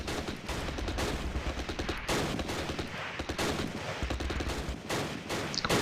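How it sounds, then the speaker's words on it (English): MG42 machine gun fire in the Close Combat video game, heard as continuous loud rattling volleys with brief gaps between bursts over several seconds. "Freaking MG42."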